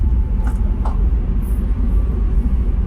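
A Tesla Model S cruising at 100 mph gives a steady, even cabin rumble of low road and wind noise, with faint brief higher ticks over the drone and no voices.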